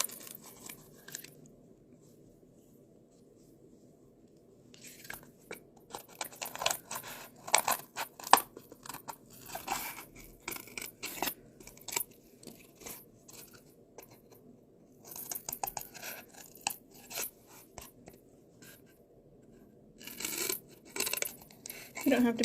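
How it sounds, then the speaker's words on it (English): Scissors snipping through paper or card to cut out a heart launcher shape, bursts of short crisp cuts separated by quiet pauses, close and fairly faint. "but what you can do is take one blade of the scissors"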